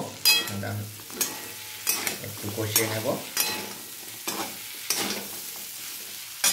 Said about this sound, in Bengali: তো আমি এখন দিয়ে দেব ভেজে রাখা কলা আর আলুটা দিয়ে একটু কষিয়ে নেব।